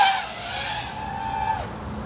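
An FPV drone sweeps past from behind, its high, buzzing motor whine close and loud, then the pitch drops sharply as it passes.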